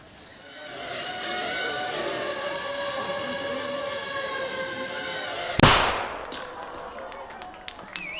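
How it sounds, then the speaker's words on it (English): A small shaped charge holding 3 grams of explosive detonates as one sharp, loud bang. A sustained tonal whine comes before it, and the bang is followed by a short decaying rumble and scattered ticks. "That little bang is enough to penetrate the skull and destroy the contents."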